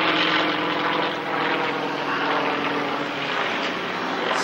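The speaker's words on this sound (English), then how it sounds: "Another very strong aeroplane, John, as" A Yak-18T single-engine propeller aircraft flies past at an airshow at Wroughton Airfield, its droning engine and prop loud and steady throughout with no talk over it.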